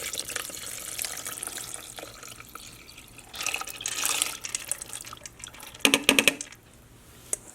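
Water poured from a cup over one cup of dal in an Instant Pot, a steady close trickle and splash that swells midway, then a few sharp drips and clinks near the end.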